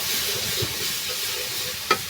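Spices sizzling and frying in a hot pan, a steady crackle with a brief scrape or clink near the end.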